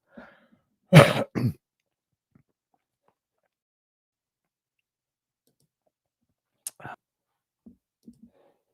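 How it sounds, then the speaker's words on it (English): A couple of sharp coughs close by on a morning radio show near the start, followed by quiet, then a few faint small sounds later on. "I have to cough."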